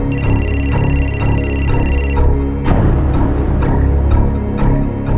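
A telephone rings in a tense crime drama scene, a steady electronic trill repeating over a low background music bed for about two seconds before cutting off into ambient sound.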